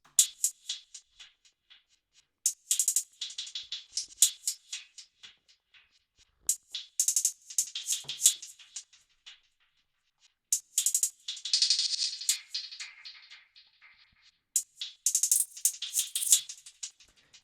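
Crisp hi-hat hits tick in quick, uneven bursts with shimmering, processed tails, fairly quiet, separated by short gaps.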